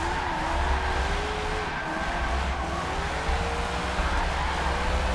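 Drift car in a racing video game played on a Logitech G920 wheel, tires breaking traction in a steady, continuous screech over a loud engine drone, with no talking.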